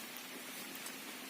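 Steady rain falls outdoors among trees and branches, a dense even hiss of droplets with no pauses, fairly faint and heard alone.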